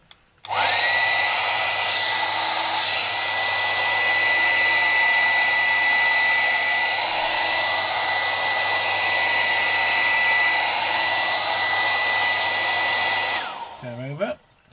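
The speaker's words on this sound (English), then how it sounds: "now I'm going to get the hairdryer out and give them a little bit of a blow" A hair dryer switches on and blows with a loud, steady whooshing whine for about thirteen seconds, then cuts off, drying parts during a Hohner Verdi accordion restoration.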